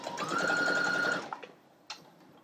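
A sewing machine runs steadily for about a second while stitching over a zipper seam during a quick gift project, followed by a few faint clicks and a short tap.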